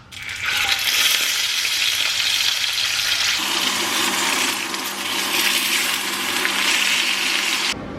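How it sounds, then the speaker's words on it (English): Meat sears in a hot pan for a keto carnivore meal, a loud steady sizzle and crackle that shifts in tone partway through as the meat is moved, with no talking. "I'm going to pan sear it now."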